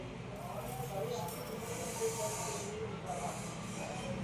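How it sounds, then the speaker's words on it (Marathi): Okra fritters coated in gram flour batter deep-fry in hot oil, giving a steady, soft, continuous sizzle with no break. "तेल तापत ठेवलंय आणि आता आपण भेंड्यांचे भजे काढून घेऊया."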